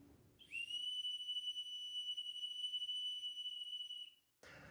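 Whistle built into a mini Swiss Army knife gives one long, shrill, steady blast lasting nearly four seconds, close and clear, then cuts off abruptly.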